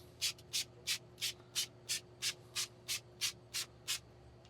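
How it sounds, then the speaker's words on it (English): Twelve short, evenly spaced hissing bursts of cooking oil sprayed onto a Masterbuilt grill, like quick sprays from an aerosol can, repeating steadily over a low background hum. "Give it a quick spray with oil here."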